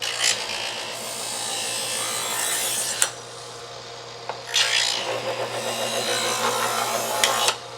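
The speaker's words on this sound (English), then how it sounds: "you want to do 3 passes of faster pulls through the sharpener" A knife pulled quickly through a handheld sharpener, with several rasping grinding strokes that each end in a sharp click, close and fairly loud, no voices.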